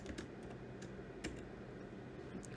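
Computer keyboard typing while entering JavaScript event listener code for an HTML and CSS navbar, a steady stream of soft, rapid key clicks close by.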